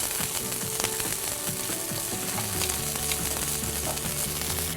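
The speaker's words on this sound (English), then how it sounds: "Once the butter's melted, we're gonna add the pear slices straight into the pan. And just let the pears caramelize." Pear slices caramelize in melted butter in a pan, a steady close sizzle and crackle of frying with a constant hiss and no talking.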